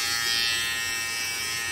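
A Philips BT3221 electric trimmer runs with a steady, bright motor buzz, close and continuous throughout, with no voices over it.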